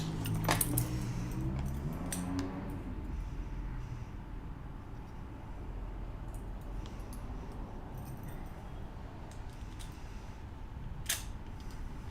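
Locksmith's keys jangle and clink softly in the hand, with a louder flurry of metallic rattling near the start and scattered small clicks over a steady faint room background.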